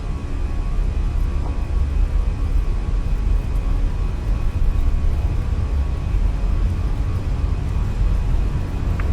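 Airliner jet engines spool up for takeoff in Microsoft Flight Simulator 2020, a loud steady roar with broad rumbling noise that holds throughout, with no talking.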